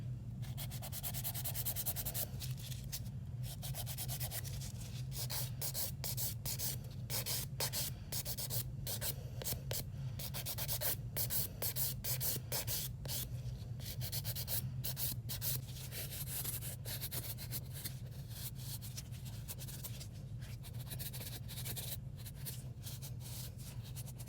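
A file rubs across poly gel nails in quick, steady strokes, a faint, continuous scratchy rasp that runs without pause and with no talking.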